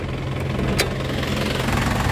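A 1998 Isuzu Panther Grand Royale engine idles steadily with a low, even rumble and faint knocking, plus one brief metallic click partway through.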